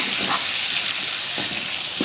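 Chopped onions sautéing in a pan for a Tamil lady's finger (okra) tamarind curry, a steady close hiss of frying with soft scraping stirs every second or so, no talk.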